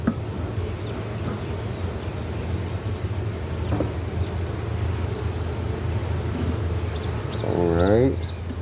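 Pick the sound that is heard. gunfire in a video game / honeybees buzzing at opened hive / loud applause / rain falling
honeybees buzzing at opened hive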